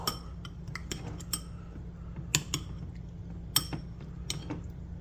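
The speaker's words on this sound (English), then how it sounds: "now we're going to stir it up a little bit" Utensil stirring Spanish mackerel ceviche dressed with ponzu, a citrusy soy sauce, with sparse light clinks and taps against the bowl over a low steady background hum.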